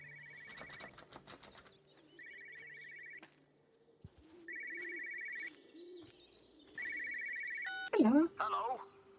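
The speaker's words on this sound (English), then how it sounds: "Oh, I can hear a phone." An old-fashioned telephone rings in repeated double bursts with pauses between, fairly near, with birds cooing in the background and a brief voice and rustle at the end.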